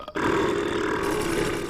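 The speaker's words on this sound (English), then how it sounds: "It's burping time." A character in the LEGO Dimensions video game lets out a single loud, drawn-out, guttural burp that lasts more than a second.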